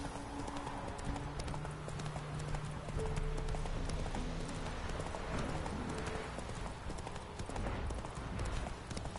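Horse hooves galloping in The Witcher 3 video game, a continuous quick clip-clop rhythm mixed with game music and ambient effects.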